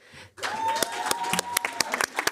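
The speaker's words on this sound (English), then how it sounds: "I think we are in the clapping mood today." Scattered applause in a Montgomery County Public Schools board of education meeting room: a thin patter of claps with sharp individual hand strikes over a steady electronic hum, fairly quiet and close.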